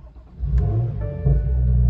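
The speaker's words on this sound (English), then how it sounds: "start the car." A BMW car engine starting, with a low rumble that builds after a short crank and settles into a steady close idle, with no voices.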